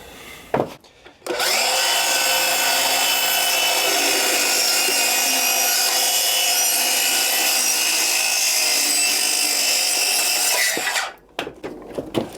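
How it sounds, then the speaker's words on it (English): A power saw cuts through a Swisstrax floor tile into the plywood beneath, a loud, sustained whining, rasping cut lasting about ten seconds, with brief handling noises before and after. "I am just cutting through the tile into the wood."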